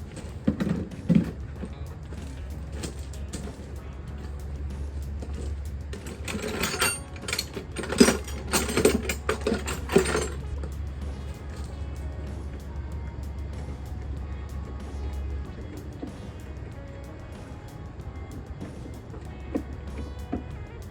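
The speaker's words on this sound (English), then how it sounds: "I'm gonna start by disconnecting the battery." Disconnecting the battery under the hood of a 2006 Toyota Tacoma: close metallic clicks, small clanks and a burst of rattling tool work over a steady low hum, with a few quiet spoken words.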